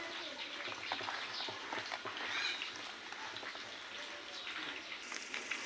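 Spices fry in oil inside a clay pot set on a straw-fed clay stove, a steady soft crackling sizzle with small pops, faint and close, with no talking over it.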